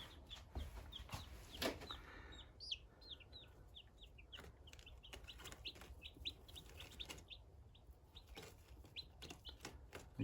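Young meat chicken chicks peep in a steady scatter of high, thin chirps, close but fairly soft, over a quiet low background hum.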